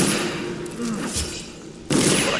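Gunshots in the stealth game Dishonored, fired at a target's head: a few dull muffled thumps and bangs over a busy game soundscape, with a louder burst near the end.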